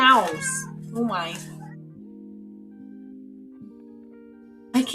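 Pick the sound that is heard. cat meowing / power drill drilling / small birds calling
cat meowing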